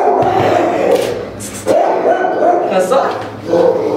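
A dog gives a few short, loud barks and yips close by during an indoor training session, with a voice overlapping between the barks.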